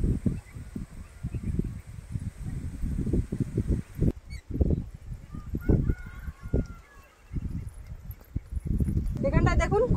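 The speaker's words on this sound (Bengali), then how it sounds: "এখানটায় দেখুন কতগুলো হাঁস বসে আছে, এখন রেস্ট নিচ্ছে" Geese or ducks honking and squawking in repeated bursts beside a rural canal, loud and close, with hoofbeat-like clatter and a voice talking intermittently over them.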